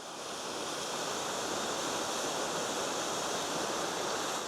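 Steady, dense rush of falling water from a waterfall in Shenandoah National Park, heard close and loud as a continuous broadband roar with no voices.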